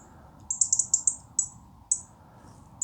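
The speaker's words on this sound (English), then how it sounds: "we've got a robin up there" A robin at a garden bird feeder gives a string of sharp, high ticking chirps, several in quick succession and then a few spaced apart, clear and close over quiet background hum.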